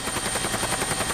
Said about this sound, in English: They're going to take me by helicopter on their next load